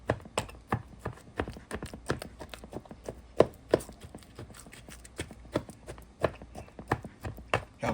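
A fork jabs again and again into seasoned pork chops, making sharp, quick taps against the plate in an uneven rhythm, close and clear with almost no talk.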